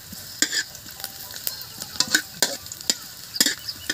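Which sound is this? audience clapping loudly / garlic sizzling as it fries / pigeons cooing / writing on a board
garlic sizzling as it fries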